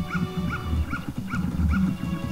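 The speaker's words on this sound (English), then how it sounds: "This dog's trying to kill me." A video game dog in Majora's Mask barks in a repeated series of short yips and bow-wows over a steady game soundtrack, roughly five barks spaced evenly across the stretch.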